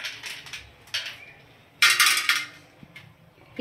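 Roasted urad dal for idli podi is scraped and tipped from a pan onto a plate, giving scattered metallic clinks and scraping rattles, with one louder clattering burst in the middle.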